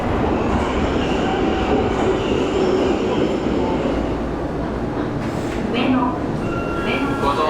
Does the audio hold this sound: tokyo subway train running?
yes